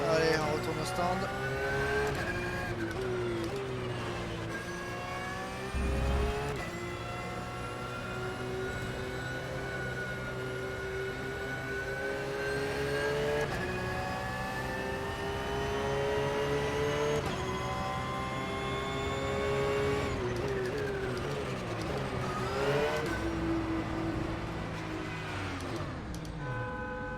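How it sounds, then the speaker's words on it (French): Race cars in the pit lane of a racing video game drive fast with a steady, rising engine whine and layered engine tones, loud and continuous for the whole stretch. "Ça roule vite dans les stands."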